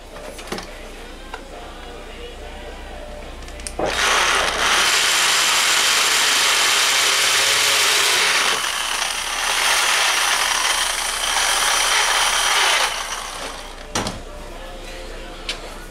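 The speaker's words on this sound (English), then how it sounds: "So I've just drilled the holes for the lame" A power drill bores holes through steel plates while making medieval armour, with loud, steady whining bursts of drilling separated by brief pauses and clicks.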